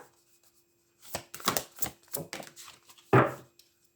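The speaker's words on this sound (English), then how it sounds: "Always struggling to shuffle this deck" Large oracle card deck being shuffled by hand, a run of close, crisp riffling and slapping bursts of card noise with brief pauses between them, ending in one louder snap.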